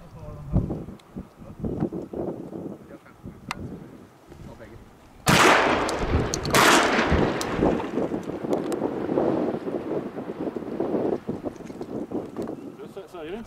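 Two loud shotgun blasts ring out in quick succession during a cormorant hunt from a boat on the water in Sweden, with steady wind buffeting and engine or water rumble throughout.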